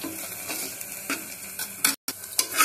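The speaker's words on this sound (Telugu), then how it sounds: "ఎండుమిర్చి కూడా వేసుకొని ఒకసారి కలుపుకోండి" Dried red chillies and ginger-garlic paste stirred in a hot pan while frying for an amaranth leaf (thotakura) fry, close sizzling with repeated scraping strokes of a spoon, alone without talking.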